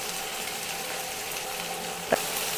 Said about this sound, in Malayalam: ഞാൻ ഇനി പകുതി ക്യാപ്സിക്കം ഇട്ട് കൊടുക്കുന്നു.